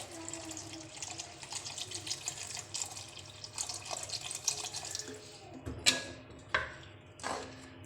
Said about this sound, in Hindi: इसमें आपने पानी ऐड कर लेना है। पानी इतना ऐड करना है ताकि आपके मटर जो है वो गल जाए।